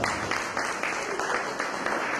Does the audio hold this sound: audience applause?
yes